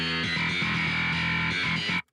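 A filtered upper-midrange and high-end copy of a bass track in a drum mix, sounding as a bright, distorted, buzzy tone with rhythmic pulses for about two seconds before cutting off sharply.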